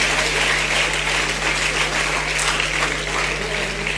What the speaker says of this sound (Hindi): जोरदार ताली से इनका स्वागत करें।